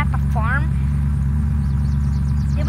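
A car in the video game Unturned drives with a steady, loud, droning engine hum throughout, with a brief voice cutting in over it early on.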